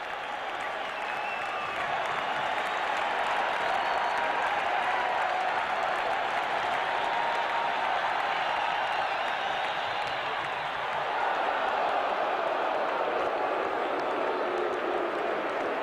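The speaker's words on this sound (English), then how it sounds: "Now this crowd is roaring." Baseball crowd roaring steadily at a Royals vs Twins game, a loud continuous wash of cheering and applause filling the whole stretch with a slight swell near the end.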